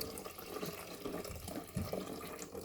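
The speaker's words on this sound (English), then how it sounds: "you take the pot and you pour it into where you usually pour the coffee" Water poured from the carafe into the reservoir of a Cuisinart coffee maker, a quiet, continuous splashing trickle with a couple of brief gurgles and no voices.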